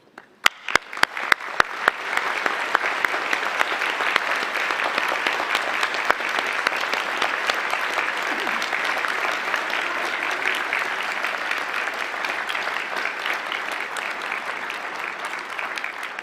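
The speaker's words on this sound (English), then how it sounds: "ask the new graduates to please rise and give your parents, your families, and your friends a standing ovation" Loud standing ovation from a large crowd at a 2012 graduation ceremony, opening with a few scattered claps that quickly swell into steady, sustained applause filling the hall.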